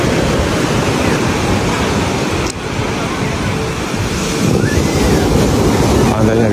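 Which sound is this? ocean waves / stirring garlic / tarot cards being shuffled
ocean waves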